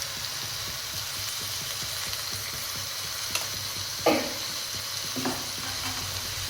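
Chicken masala with chili powder is stirred and mixed in a hot pan, a steady low sizzle under a few soft scraping strokes of the spoon, with no voices.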